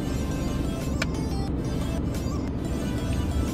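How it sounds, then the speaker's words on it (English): Road traffic heard from inside a car stuck in a jam: a steady low engine and road rumble with a few faint passing swishes, continuous and fairly loud, with no talk. "I am in this godforsaken traffic."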